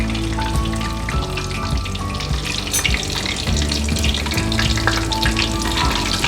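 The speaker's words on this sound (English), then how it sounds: "Now we want to cook these slowly so that the mushrooms are cooked inside the breading." Breaded mushrooms fry slowly in a pan of oil, a loud, close, continuous crackling sizzle that holds steady throughout with no talk.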